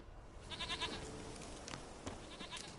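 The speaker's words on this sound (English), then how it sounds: "Here, goat." Goat in The Witcher 3: Wild Hunt gives a few faint, wavering bleats over quiet game ambience, the cries short and repeated in a small cluster.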